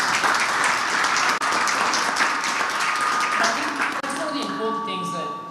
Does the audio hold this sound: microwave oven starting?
no